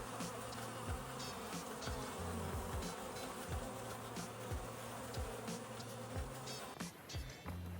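Swarm of honeybees just installed in a hive, buzzing steadily and close at low volume, with many individual bees droning past in wavering tones throughout.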